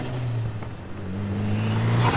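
A modified, dyno-tuned turbocharged Mitsubishi Lancer Evolution X with a Cobb Accessport holds a steady, droning engine note close by, with a slight shift in pitch midway and no talking.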